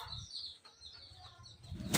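A pigeon flaps its wings in quick, soft fluttering bursts, close by and fairly faint, ending with a louder flurry.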